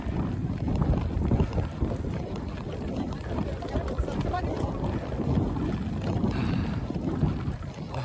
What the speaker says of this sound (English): The wind is much stronger going this way